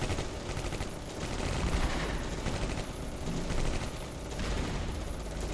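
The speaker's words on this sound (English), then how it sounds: "ordnance exploding here. But I think it's mostly enemy grenades." Enemy grenades and ordnance explode in the WWII Eastern Front strategy game Close Combat: Cross of Iron, a dense, continuous din of blasts and rattling gunfire with no pause.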